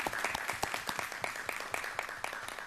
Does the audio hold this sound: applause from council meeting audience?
yes